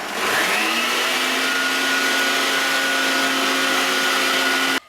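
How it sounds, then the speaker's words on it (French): Electric hand mixer beating egg whites for an Italian meringue, a loud, steady high-pitched motor whine that holds nearly unchanged for several seconds before cutting off abruptly at the end. "je bats les œufs, le blanc des œufs."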